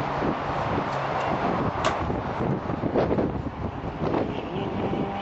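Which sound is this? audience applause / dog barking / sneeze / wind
wind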